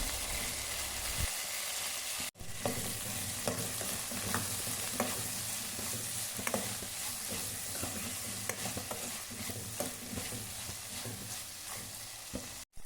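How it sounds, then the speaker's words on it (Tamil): Eggplant sautéing in a hot pan, a steady loud sizzle with frequent clinks and scrapes of a spoon stirring throughout. "நறுக்கி வைத்துள்ள கத்திரிக்காயை சேர்த்து நன்றாக வதக்கி கொள்ளலாம்"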